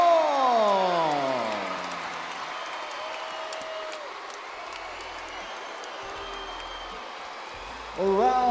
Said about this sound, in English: Good to see the crowd clapping their hands for the boys